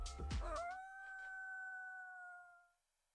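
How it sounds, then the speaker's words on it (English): A dog howls in the Touhou LostWord video game, one clear rising howl that holds a steady wavering pitch for about two seconds before fading out, with a brief burst of game sound at the start. "Why are you barking?"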